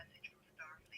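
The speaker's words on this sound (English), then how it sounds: "That phone's got to go on mute." Short electronic phone tones chirp three times at about half-second spacing, faint and clear, with no talk over them.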